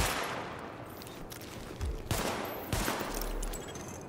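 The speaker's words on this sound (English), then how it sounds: "Sidearm test successful." Pistol shots from a sidearm in The Division video game, several sharp reports in quick succession against a noisy background, fairly loud and close.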